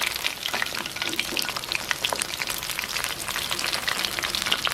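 Navaratri festival snacks frying in hot oil, a steady dense sizzle with crackling pops running throughout, close and fairly loud with no talking.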